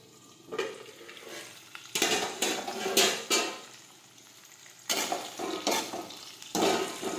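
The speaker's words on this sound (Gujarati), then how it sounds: "આ રીતે આપણે સાતળી લઈશું" Spiny gourd (kantola) being sautéed in a pan: a soft background sizzle broken by repeated loud clattering strokes of a spoon stirring against the metal, coming in irregular bursts.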